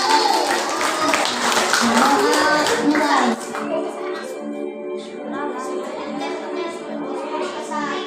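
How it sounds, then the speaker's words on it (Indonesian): A class of children at a school grade 4 arts performance claps for a group, brisk overlapping hand claps with voices that then fade into lighter scattered clapping and chatter. "Teman-teman, Tepuk tangan untuk kelompok 1."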